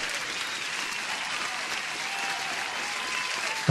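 Applause plays during a live day-trading stream, a brief burst of steady, dense clapping that runs evenly throughout and ends with a sharp thump.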